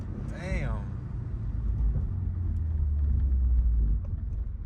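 A Toyota GR86 engine with an AVO turbo kit rumbles and drones steadily from inside the car, low and heavy, with a brief whistling whine near the start and a voice speaking over it.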